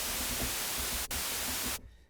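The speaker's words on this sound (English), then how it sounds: "Do white noise first." Steady hiss of white noise from a Moog synthesizer, loud and even, cut briefly by a tiny dropout, then stopping abruptly near the end.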